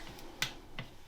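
Crisp, sharp clicks from a torque wrench tightening clutch pressure plate bolts, two or three brief ticks close by in a quiet workshop.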